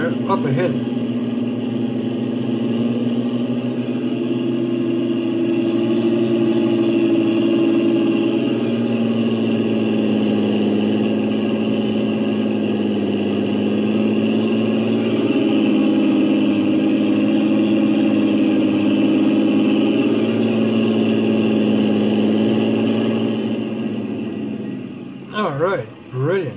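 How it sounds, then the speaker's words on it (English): A Fiatagri 180 tractor engine in Farming Simulator 19 drones steadily and loudly, its pitch stepping up and down several times before fading out at the end. "The sounds that are coming off of this tractor sounds like"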